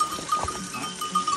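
Goats bleat in the mountains near Pokhara, Nepal, with a few short, moderately close calls over a steady outdoor background.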